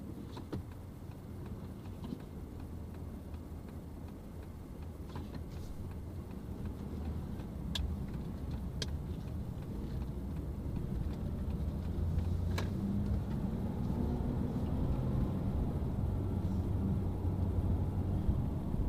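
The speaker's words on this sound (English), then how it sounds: "one bike rider, motorbike rider giving way to another motorbike rider" Motorbikes ride along a main street, a steady low engine rumble that swells gradually as the bikes draw nearer, with no voices.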